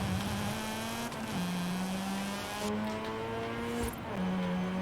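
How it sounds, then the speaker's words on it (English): A 1990 Mazda RX-7 (Savanna) rotary engine in Forza Horizon 5 revs hard and climbs through repeated high-pitched pulls, dipping briefly between rises, loud and close with no talk. "the engine revs so much, I break the tachometer"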